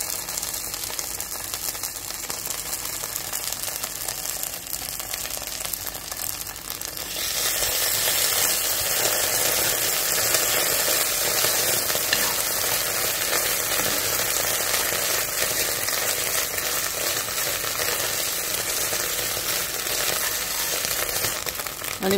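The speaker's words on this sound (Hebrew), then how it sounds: "אני מטגנת את רסק העגבניות עם הבצל 3 דקות" Tomato paste frying with onion in a pot for red Iraqi rice, a steady hissing sizzle that grows louder and denser partway through, with no talking.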